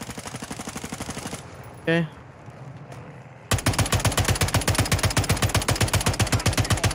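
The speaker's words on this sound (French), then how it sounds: "Quelqu'un m'a tiré dessus." Rapid automatic gunfire in a battle royale video game, steady rhythmic shots that stop briefly and then resume louder, with a short spoken word in the pause.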